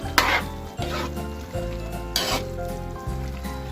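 Radish and atsuete being stirred in a hot frying pan, a steady sizzle broken by several scraping strokes of a spatula at a regular pace, close and clear, with no talk.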